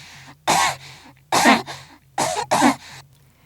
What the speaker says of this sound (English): There's the dry smoker's hack from irritated airways.